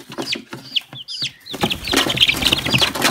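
Loose chickens loose indoors on a homestead cluck and squawk in quick, scattered bursts, close and fairly loud, with household clatter and movement rising underneath in the second half.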